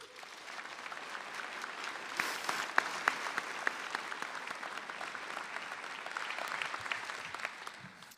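A college of education commencement crowd gives President Wilson a sustained round of applause, with steady clapping throughout and a few sharper individual claps standing out.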